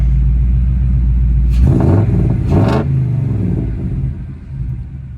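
The Coyote V8 engine of a 1964 Ford F100 truck rumbles steadily, then catches and roars up briefly before settling into a low, even idle close by.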